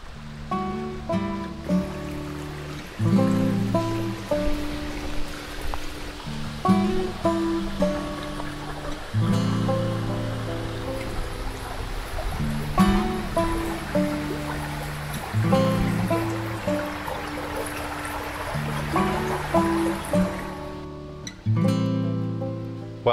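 A Northern Michigan river flows on an autumn day, a constant rushing wash of water with splashy texture, steady and fairly close, broken by intermittent tonal sounds.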